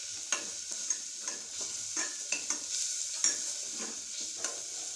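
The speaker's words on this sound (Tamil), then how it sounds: "இதை நல்லா வதங்கட்டும்." Curry ingredients sautéing in a pan give a steady sizzle broken by sharp scraping stirs every second or so, close up and with no talking.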